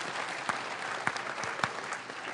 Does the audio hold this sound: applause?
yes